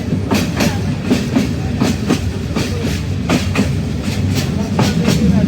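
Burimari Express passenger train rolling onto the new Jamuna (Bangabandhu) rail bridge, a steady loud rumble with rhythmic clickety-clack wheel beats repeating every half second or so, close by.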